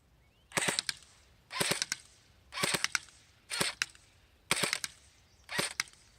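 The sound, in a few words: airsoft gun firing ten shots in shooting test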